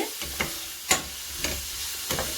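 Green chillies and tomatoes stir-fried in a pan for chicken devil curry, with a steady soft sizzle broken by four sharp scrapes of a spoon at intervals, close and clear with no voices.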